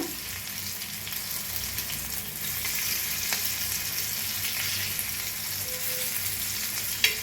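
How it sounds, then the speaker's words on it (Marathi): Fish pieces shallow-frying in a pan for fish fry, a close, steady sizzle with faint spatters and one sharp utensil tap near the end. "सगळं मासं फिरवून घेतलेलं आहे आणि दोन्ही साईडने छान असं तळून घेऊया"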